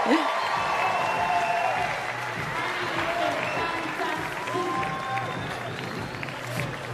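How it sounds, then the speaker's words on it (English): Crowd at the Dock Masters 2020 dock-jumping dog finals applauds and cheers in a steady, dense wash of clapping and voices lasting the whole stretch, with scattered shouts rising above. "Crowd pumped up, crowd psyched."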